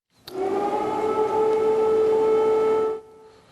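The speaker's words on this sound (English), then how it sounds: "Sirens continue to ring out at all hours in Ukraine's capital" An air raid siren in Kyiv, Ukraine wails in a single sustained, steady tone, loud and continuous before cutting off.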